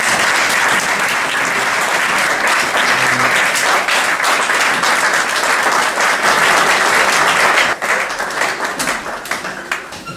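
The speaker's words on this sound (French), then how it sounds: "On va acclamer très fort pour le Seigneur." A church congregation bursts into loud, sustained applause for the Lord, with dense clapping filling the room for about eight seconds before thinning into scattered claps.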